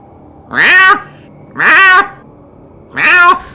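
A human voice imitates a weird cat noise, three drawn-out nasal yowls with rising and falling pitch, evenly spaced and loud, close to the microphone.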